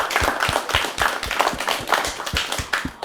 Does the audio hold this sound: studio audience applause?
yes